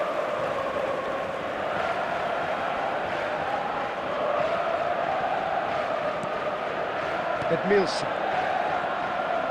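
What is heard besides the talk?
stadium crowd noise in the video game eFootball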